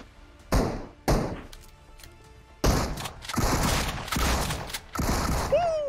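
Video game gunfire strikes the player character in several sharp, heavy thumping bursts that land close and loud, with dense crackling volleys in between and a brief rising electronic tone at the end.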